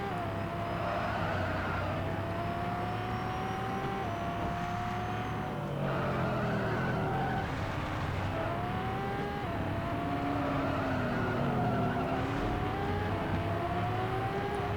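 A Lamborghini Asterion LPI 910-4 in a racing video game howls through sustained engine revs with rising and falling pitch sweeps as it slides, tyre skid noise blending into the steady, loud engine drone.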